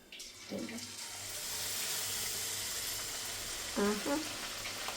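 Neyyappam batter hits hot oil, bringing a steady hissing sizzle that swells and holds, with faint scraping and stirring clinks near the start and just before the end.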